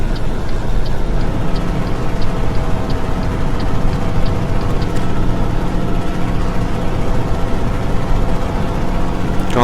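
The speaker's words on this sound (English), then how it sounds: "The roar of the engine, yeah, it's a bit. She's a loud beastie." Steady, loud truck engine roar from American Truck Simulator, a continuous deep drone with faint rhythmic ticking running unbroken throughout.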